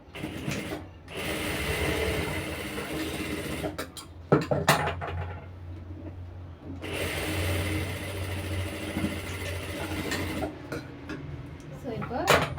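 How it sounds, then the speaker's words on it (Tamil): A sewing machine runs in bursts of rapid mechanical stitching while it sews a back stitch to join front and back pieces of fabric. Pauses and clicks separate the runs, and a voice talks now and then. "பேக் ஸ்டிச் போட்டுக்குவோம்."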